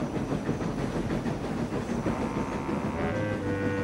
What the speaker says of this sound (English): The engine's speed grew slower and slower.